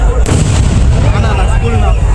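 Festival firecrackers at the Pavalathampatti Malayanoor festival: a loud, close blast followed by dense, continuous crackling explosions.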